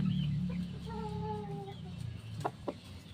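Red dalusapi gamecocks and chickens give low clucks and a drawn-out throaty call, then a couple of sharp short squawks, fairly close against a steady background hum.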